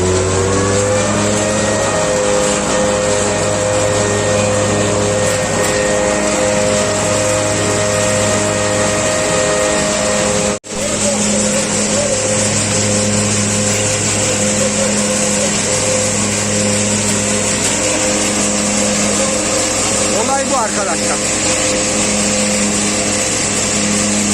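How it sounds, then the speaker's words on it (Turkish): A tractor-driven thresher running off the PTO shaft during a village hazelnut harvest, giving a steady loud mechanical drone with a constant engine hum and rattling throughout, close by and unbroken. "Şimdi kuyruk miliyle çalıştırıyoruz. Evet arkadaşlar. Sistem bu. Vatos makinesi."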